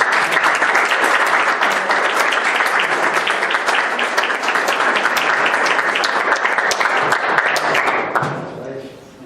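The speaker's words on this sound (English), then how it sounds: "Let's have a round of applause." A room full of people at a township trustee meeting breaks into sustained, loud applause that holds steady for about eight seconds, then fades quickly as voices take over at the end.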